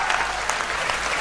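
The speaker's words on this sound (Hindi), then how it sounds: "पंक्ति अगर आपके हृदय तक पहुंच जाए तो दोनों हाथ उठा के तालियों का महोत्सव करना।" Audience at a Hindi poetry recital in a pandal breaks into a brief, dense burst of applause, with steady clapping throughout and no speech.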